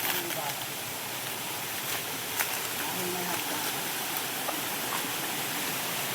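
Strong, cold water flows steadily at a Japanese site, making a broad, even rushing wash that holds at the same loudness throughout, with faint voices now and then underneath.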